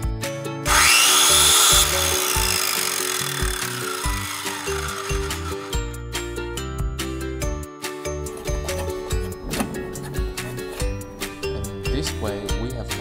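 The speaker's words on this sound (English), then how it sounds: "we use the electric drill to" A close electric drill whirs in bursts while redrilling a hole in the electrical board of a DIY fiber laser welder, with metallic clinks and rattles between the runs.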